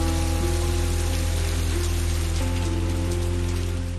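Steady, dense monsoon rain pours onto surfaces in a city, a continuous close hiss of drops with a low rumble beneath, no voices present.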